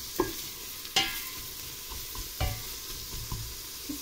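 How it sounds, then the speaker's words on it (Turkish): Peppers and carrots lightly sautéed in a pan for a dried black-eyed pea stew: a soft sizzle broken by a few sharp clinks and scrapes of a spoon against the pan, close and intermittent, no speech. "Biberimizi ve havucumuzu da ilave edip hafif bir şekilde pembeleştirelim"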